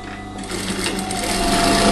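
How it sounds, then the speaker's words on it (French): A sewing machine runs steadily, stitching a dress lining along the facing, its close mechanical whir building slightly louder throughout without any talk. "Donc, je vais coudre"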